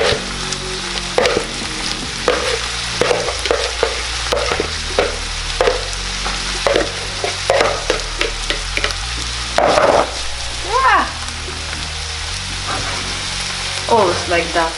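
Onion frying and being stirred in a pan, with a steady close sizzle beneath repeated scraping and knocking strokes as the food is mixed, and faint background music running throughout.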